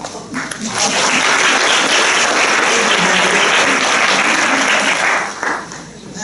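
Audience at a 2017 Foundation Skills symposium breaks into sustained applause for a speaker, a dense wash of clapping that swells quickly and holds steady for several seconds before tapering off.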